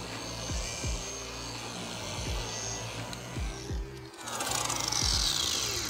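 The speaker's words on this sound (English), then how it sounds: "Again, the polisher should always stay flat on the surface." A rotary car paint polisher buffs paint to remove water spots and swirls, a steady whirring drone with rhythmic rubbing passes and a brief pause before it picks up again, louder and harsher.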